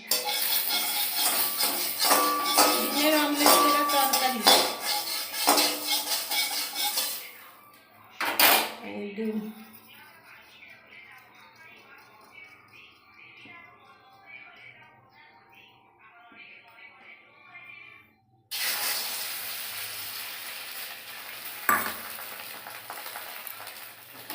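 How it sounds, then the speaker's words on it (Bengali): Oil sizzles loudly in a wok for several seconds as an egg fries, with some utensil clatter. A quiet lull follows before a fresh burst of sizzling near the end. "এই যে ডিম ভাজা করুন"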